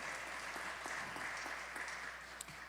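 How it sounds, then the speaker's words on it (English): Steady audience applause fills a community town hall meeting, dense and continuous clapping at moderate distance with no voices over it. "Please give her a round of applause."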